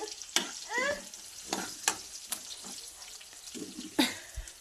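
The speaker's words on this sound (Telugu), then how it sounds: "ఉల్లిపాయలు మగ్గ పెట్టాడు, ఉల్లిపాయలు వేసాడు మగ్గిని, మళ్ళీ పచ్చిమిరపకాయలు కూడా వేసాడు." Onions and green chillies for fried rice fry in a home kitchen pan, with soft sizzling under intermittent clanks and scrapes of a spatula stirring, plus a brief trickle of water.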